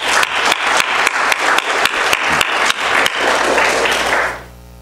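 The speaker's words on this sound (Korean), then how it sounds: "제가 큰 박수로 환영해 드리겠습니다." A church congregation claps to welcome a visitor at a Sunday service, with loud, rhythmic, fairly unified clapping that holds steady and then stops abruptly near the end, leaving quiet room tone.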